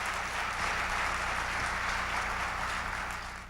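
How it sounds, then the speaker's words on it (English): A forum audience applauds at a 2017 international conference in Korea, a dense, even burst of clapping heard alone that holds steady and fades slightly at the end. "Let's give everyone a round of applause."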